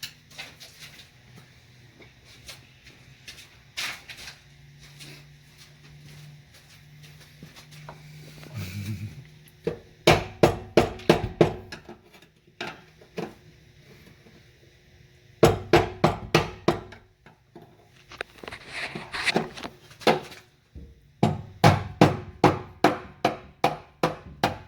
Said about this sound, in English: you're going to take a screwdriver and you're just going to hit it right here until it pulls itself in